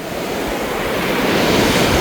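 Sea waves breaking on a beach where fishermen haul in a shore seine net, a steady, loud wash of surf roaring continuously with wind buffeting the microphone and no voices.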